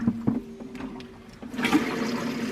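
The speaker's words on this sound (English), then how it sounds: "run a ton of water through the system to clean the hose out" Water flushing through the gray and black tanks and sewer hose of a vintage RV parked in the mountains: a faint trickle first, then a louder, steady rushing gush that carries on to the end.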